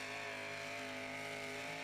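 A Ford-powered pulling tractor at an outlaw tractor pull holds a steady, droning engine roar with a layered tonal hum, faint and distant throughout.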